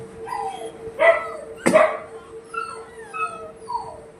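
Several dogs bark and howl together at night, one yelp setting off the rest: a near burst of barks, then drawn-out, wavering howls trailing off over a steady electrical hum.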